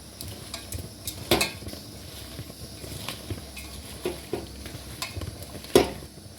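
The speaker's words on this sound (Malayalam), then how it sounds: "അതിലേക്ക് മഞ്ഞൾപ്പൊടി, ഉപ്പ് ഇത് രണ്ടും കൂടി നന്നായി മിക്സ് ചെയ്യുക." Bitter gourd pieces are mixed by hand with turmeric powder and salt, giving soft wet squelching and rustling with a few sharp clinks against the bowl, close and quiet, with no talking.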